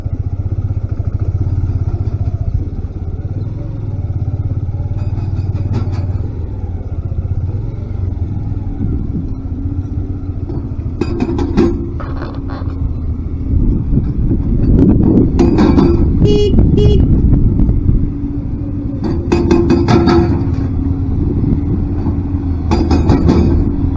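Motorcycle riding a high mountain trail toward a water crossing, engine rumbling steadily throughout with clattering knocks and louder rough bursts in the second half, no talk.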